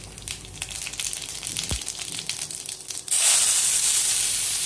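Cumin seeds drop into hot oil in a kitchen pan and burst into a loud, steady sizzle partway through, after a quieter stretch of soft rustling and clinks.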